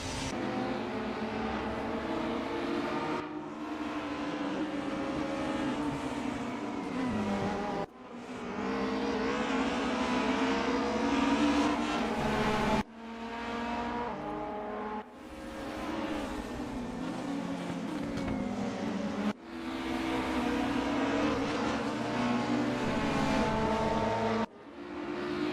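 Race car engines drone loudly and continuously as cars run side by side in a sim racing game at RR Raceway-Bridge. The engine note shifts with gear changes, and sharp breaks in the sound mark changes of camera view.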